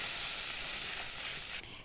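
Water poured into a pan of frying spices and tomatoes for a vegetable kofta curry makes a loud, steady hissing sizzle that eases slightly toward the end.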